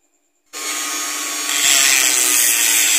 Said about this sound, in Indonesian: Ini lagi saya haluskan bekas luka macetnya dengan menggunakan bor tuner